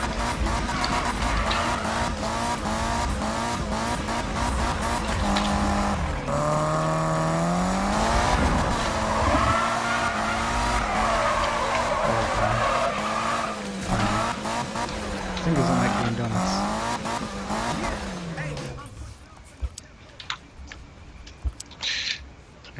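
Car in the Need for Speed racing game doing donuts, engine revving with shifting pitch and long wailing tire squeals, loud and continuous before dropping off abruptly near the end.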